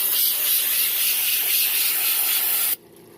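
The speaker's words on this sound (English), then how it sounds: "I like to take some nitrogen, since I don't have a leaf blower. Just kind of blow all that water out." A loud, steady rush of nitrogen blowing water out of an air-conditioning coil hisses and sprays for a few seconds, then cuts off abruptly, leaving faint background noise.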